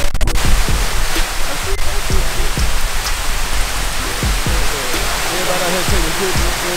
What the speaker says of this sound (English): Big waterfall. Look at it.